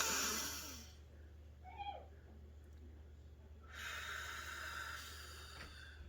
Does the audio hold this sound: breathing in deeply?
yes